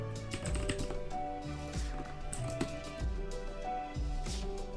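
Rapid, close clatter of keys being typed on a computer keyboard, in irregular bursts over steady background music with no talking.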